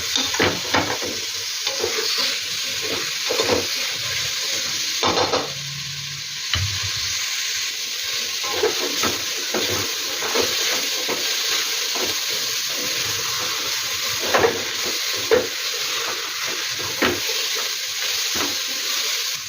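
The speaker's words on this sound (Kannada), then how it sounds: "ಈರುಳ್ಳಿ, ಟೊಮೊಟೊ ಎಲ್ಲ ಚೆನ್ನಾಗಿ ಸಾಫ್ಟ್ ಆಗಬೇಕಂತ ಫ್ರೈ ಆಗಬೇಕು." A masala of onion, tomato and coconut fries in oil with a loud, steady sizzle and bubbling hiss, marked by frequent scraping knocks of a spoon stirring, heard alone without speech.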